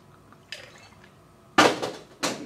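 Peach schnapps is poured over ice in a glass, heard as a few splashy liquid bursts with ice clinking, close and clear with quiet gaps between.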